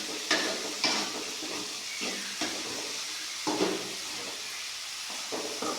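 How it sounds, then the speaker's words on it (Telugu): Gooseberries are stirred with onions and oil in a hot pan, making a steady sizzle with periodic scraping strokes of a spoon, close and moderately quiet, with no voices. "వేసి గంటతో బాగా కలపెడుతున్నాం."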